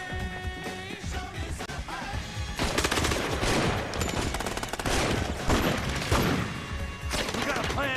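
Rapid bursts of automatic gunfire and single shots from the mobile game Gangstar Vegas, loud and dense throughout, with game music and voices mixed underneath.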